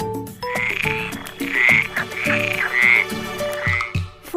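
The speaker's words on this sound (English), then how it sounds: "Frog." A frog croaks in a series of rapid, throaty, pulsing calls, about five bursts in quick succession, loud and close with no speech.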